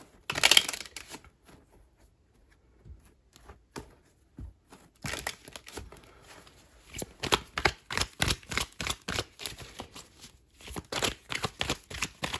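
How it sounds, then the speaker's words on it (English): Tarot cards are given a quick shuffle close by, starting with a sharp flick and then settling into a steady run of crisp, papery riffles and slaps that grow busier toward the end, with no talk over them. "Everything is pre-shuffled, but I'm just going to give this a quick shuffle very quickly over here."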